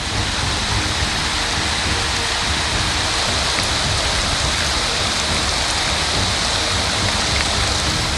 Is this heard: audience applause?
no